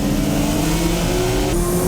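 Tuned Nissan GTR and Silvia race cars at full throttle, a loud steady engine roar with a sustained high-revving drone that shifts pitch near the end, no voices over it.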